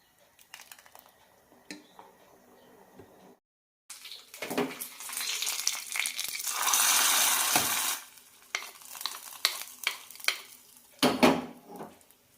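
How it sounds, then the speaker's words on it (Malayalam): Mustard seeds and curry leaves hit hot oil in a tempering for bitter gourd sambar with a sudden loud hissing sizzle and sputter, trailing into sharp pops and utensil clinks against a pot. "കടുകും കറിവേപ്പിലയും തളിച്ചിടാം"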